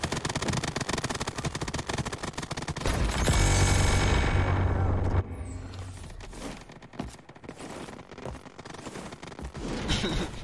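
Rapid bursts of gunfire from the XDefiant shooter game crackle through a busy, loud mix, peaking in a dense volley mid-clip before thinning into scattered shots.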